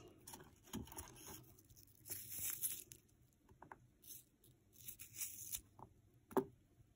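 Onion pieces being pulled apart layer by layer in a home kitchen, heard as faint, close, intermittent crisp tearing and crinkling sounds in short bursts with quiet gaps between.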